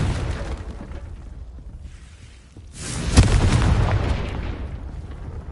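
A Confringo fire spell in the Hogwarts Legacy video game detonates in a sudden booming blast that rolls into a roaring rumble and then fades.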